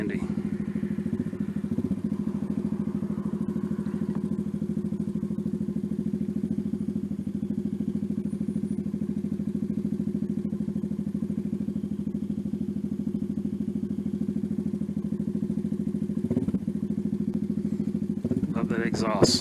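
A Venom Ghost 250 motorcycle's engine and exhaust drone steadily and continuously while riding, a loud, even low rumble with faint clatter near the end.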